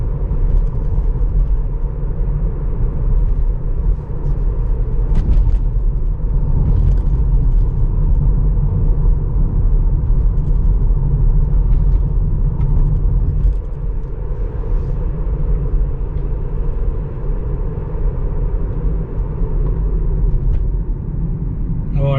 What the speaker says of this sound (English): Just let the car drive and brake and accelerate.